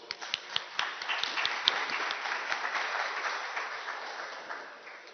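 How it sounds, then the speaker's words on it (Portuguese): An audience at a Brazilian seminar for court officers gives a steady round of applause, with sharp individual claps at first that blend into an even wash before fading out. "Uma salva de palmas."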